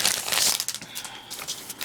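Thick double-sided 8x8 inch craft paper sheets from a Christmas crafting kit being handled, giving soft close crinkling and rustling that swells and fades over a couple of seconds, with no voice.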